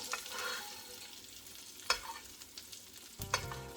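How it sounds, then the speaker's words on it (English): Butter with capers, garlic and thyme sizzles faintly in a pan beside resting monkfish: a soft, low hiss with occasional metallic clinks of utensils, quiet and without talk. "I'm going to add to this butter capers, garlic, thyme"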